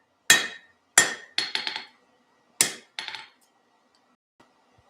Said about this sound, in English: we're going to do some chiseling